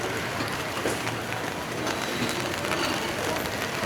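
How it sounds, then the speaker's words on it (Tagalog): Light monsoon-season rain patters steadily on a windy Divisoria street in Manila, with a constant hiss of drops and gusts throughout and faint background activity. "Mahina yung ulan pero mahangin."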